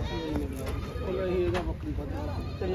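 A goat bleats at a busy livestock market, a few short wavering calls rising above close, steady talk and crowd noise.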